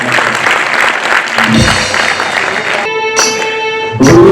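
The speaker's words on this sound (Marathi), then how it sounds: "जरा त्यांच्यासाठी जरा जोरात टाळ्या झाला पाहिजे." An audience at a devotional music concert and memorial gathering bursts into loud, sustained clapping, a dense close roar of hands that holds steady, then swells again at the very end.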